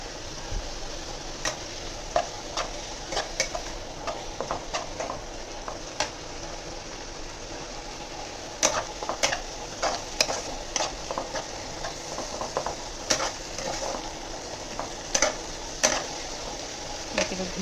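Chicken ghee roast masala frying in a pan while a spoon stirs it, giving steady close sizzling broken by frequent sharp scrapes and clacks against the metal, with no talking.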